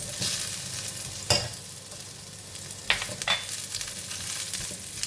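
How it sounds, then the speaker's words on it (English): Onions go into hot oil with browned garlic for black pepper chicken, giving a continuous close sizzle broken by a few sharp spatula scrapes and stirring clanks. "garlic is almost browned. I am putting in the onions"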